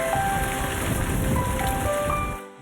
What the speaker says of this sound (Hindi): तेज हवाएं चली और गरज चमक के साथ बारिश ने रुत ही बदल डाली।